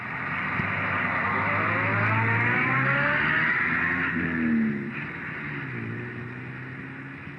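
An Austin Mini towing a 10-foot Sprite 400 caravan climbs a mountain road in the Sierra Nevada, its small engine droning steadily and straining under load, rising and falling in pitch with no voices.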